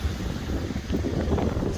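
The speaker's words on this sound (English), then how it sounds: "Sorry about the wind." Strong wind blows across Chesil Beach and batters the microphone in a constant low rumbling roar, with surf noise mixed in underneath.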